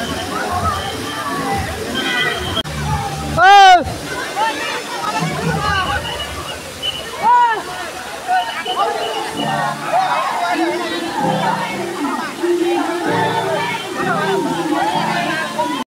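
Water sloshes and splashes continuously at a crowded water park, with a dense babble of many voices and shouts all around and a couple of brief whistle-like tones cutting through.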